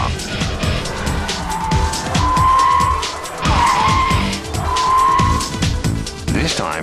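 Car tires skidding and squealing during a Bosch ESP electronic stability control test drive, with loud repeated squeals over engine and road noise and a person talking.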